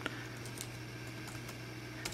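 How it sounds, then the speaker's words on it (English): Keys tapped on the keyboard of a Samsung ATIV Book 9 Lite laptop, sparse light clicks over a steady low electrical hum. "I'm typing on the computer and entering commands on the phone"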